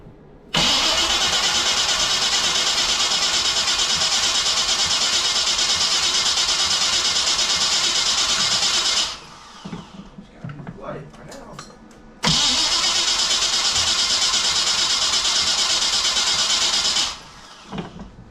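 A Chevy small block engine being test-fired after a swap cranks with a steady, loud starter whirr for several seconds, stops, then cranks again at length; short sputters and voices come between the two attempts.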